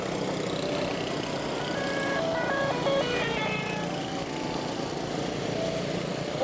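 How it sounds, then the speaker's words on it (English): Small motorized cars of Shrine members circling during an outdoor Shrine ceremonial parade, a steady buzzing engine drone that stays close and continuous, with faint melodic tones drifting above. "More of the little cars driving around in circles."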